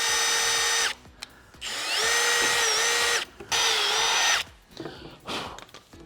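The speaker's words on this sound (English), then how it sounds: "I wanna show you how to drill your ends. You're gonna pre-drill." Cordless power drill pre-drilling the ends of a workpiece with a 1/8 drill bit: loud, close whining bursts of motor speed with short pauses between runs, ending in sputtering low-speed pulses.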